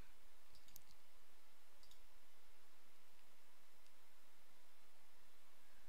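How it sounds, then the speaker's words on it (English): A few faint, sharp computer mouse clicks while working in an image editor, heard as isolated ticks over a steady background hiss. "I click on the bottom layer"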